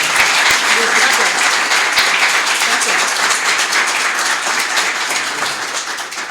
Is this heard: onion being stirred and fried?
no